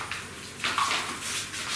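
Liquid paint is poured out of a container while colours are being mixed. It makes a brief, close, splashy trickle in a few uneven bursts, with no talking.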